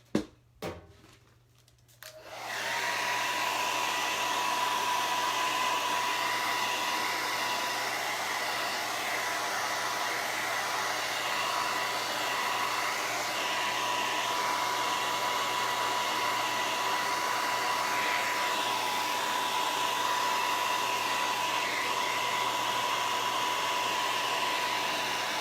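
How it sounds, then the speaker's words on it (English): A hair dryer drying chalk paint on a canvas clicks on and then runs as a steady, loud whirring blow that continues without a break, with nobody talking. "now I'm going to have to dry it again, and this actually is probably going to be a little longer drying time"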